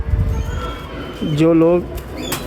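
A patti wale (banded) pigeon gives one clear, close, rolling coo partway through, with someone speaking around it.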